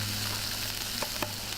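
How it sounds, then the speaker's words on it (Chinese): Meat sizzles in olive oil in a pan over medium-high heat, a steady quiet frying hiss with a couple of faint clicks. "橄榄油中大火煎肉"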